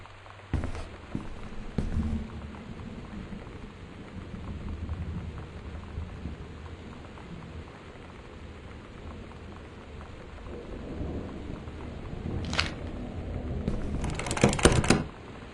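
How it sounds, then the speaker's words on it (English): Steady rain from a thunderstorm in the video game Gone Home patters continuously, broken by a few sharp crackling bursts and a louder rumbling surge near the end. "The Northwest Weather Service reports high winds and torrential rain conditions affecting the following counties"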